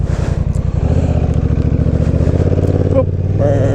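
A Honda Rebel 1100 DCT motorcycle being ridden on a July 4th outing, its loud, steady engine drone and close throbbing exhaust pulsing throughout with a slight rise in pitch.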